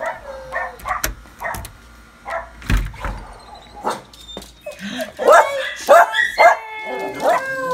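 Several puppies bark and yip in quick, uneven bursts close by, with a few whimpers and a louder cluster of high yips toward the end.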